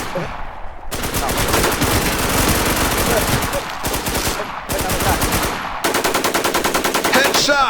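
Rapid automatic gunfire in a shooting video game, long loud bursts of machine-gun fire broken by brief pauses, with no speech over it.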